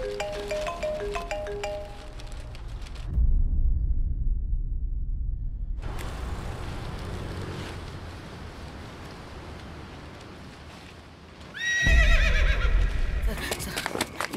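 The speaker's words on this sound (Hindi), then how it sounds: "घोड़े को छोड़ दीजिए ना सर" A horse neighs and its hooves clip-clop against a background of rain-like noise, the whinny coming loud and close in two bursts near the start and again near the end.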